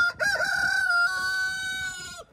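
A Cochin bantam rooster crows once, close and loud, in a backyard flock setting. The long drawn-out call holds steady before cutting off near the end.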